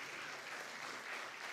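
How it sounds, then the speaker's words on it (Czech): An award ceremony audience at a short film festival claps in steady, even applause, heard from a distance and fairly faint throughout. "Krásná, zatleskáme"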